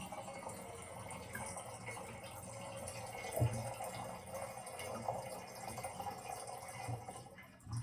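Water is poured into the tank of a rowing machine, adding resistance. A faint, continuous gushing trickle fills steadily for several seconds, with a slight splash partway through and no voices.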